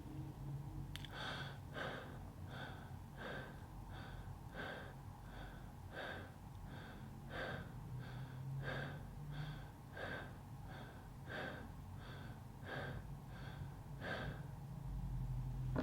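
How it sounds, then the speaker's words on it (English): Fast connected breathwork breathing, inhales and exhales following one another without pause in a steady quick rhythm of about twenty breaths, close to the microphone, with a low hum beneath. "Keep the inhale and exhale connected without pause"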